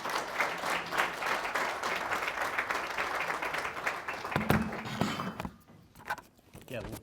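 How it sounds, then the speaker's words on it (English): An audience applauds an award winner at a business award event, sustained clapping from a crowd that fades out near the end, with some voices mixed in. "give him a round of applause"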